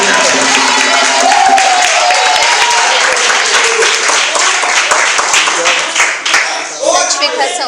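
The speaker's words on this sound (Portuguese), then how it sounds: "Senta, aplaude e dá glória." A church congregation at an evangelical service claps and cheers loudly together, a dense roar of hands with voices crying out over it, thinning slightly toward the end.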